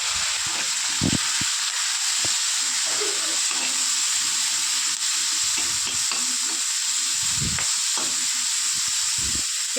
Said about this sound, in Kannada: ಇದು ಚೆನ್ನಾಗಿ ಫ್ರೈ ಆಗಲಿ ತುಪ್ಪದಲ್ಲೇ ಫ್ರೈ ಮಾಡ್ಕೋಬೇಕು ಮತ್ತು ನುಗ್ಗೆ ಸೊಪ್ಪೇನಿದೆ ಇದು ಚೆನ್ನಾಗಿ ತುಪ್ಪದಲ್ಲೇ ಫ್ರೈ ಆಗಬೇಕು